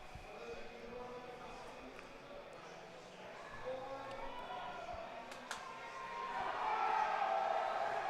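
Spectators at a USAPL team powerlifting meet in Colorado cheer and murmur continuously under a commentator's voice, the crowd noise swelling louder toward the end.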